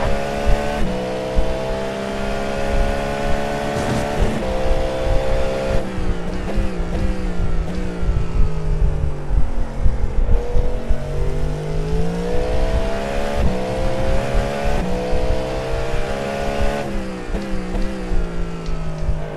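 Cadillac GTP prototype race car lapping Daytona in iRacing, its engine loud and continuous, revving up and down through gear changes with other cars passing close.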